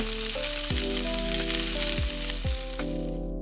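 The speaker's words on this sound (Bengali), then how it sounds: "এবার আমাদের করে রাখা পেস্টটা আমরা গরম তেলে দিয়ে দেব। সবকিছু দিয়ে ভালো করে নাড়াবো।" A spice paste fries in hot oil for Bengali chanar dalna, a loud, continuous close sizzle with a few sharp scrapes of stirring cutting through.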